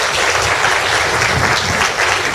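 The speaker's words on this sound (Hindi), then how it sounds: "तो एक बार इस स्थान के लिए भी जोरदार तालियां हम सब।" Loud, dense applause fills a meditation gathering hall, a steady wash of many hands clapping close and without pause.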